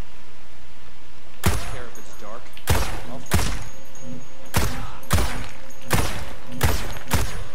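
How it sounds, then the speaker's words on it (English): Sharp, loud single gunshots from a DMR rifle in Ghost Recon, around eight cracking reports spaced unevenly, each ringing briefly before the next. "Oh my, I just missed all of those shots."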